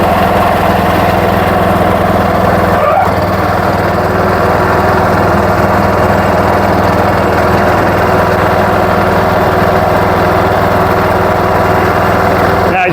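John Deere 210 garden tractor engine droning steadily while the machine is driven, a loud, constant small-engine buzz heard from the seat with only a brief dip partway through.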